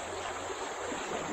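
River water flowing near San Pablo City, Laguna, a continuous broad rushing and gurgling wash at a steady moderate level, close and unbroken, with no voices.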